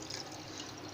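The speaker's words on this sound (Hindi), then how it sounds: "अब इसमें पानी जाएगा।" Water poured into a glass while making a Ramzan drink, a steady soft splashing stream heard on its own at low level.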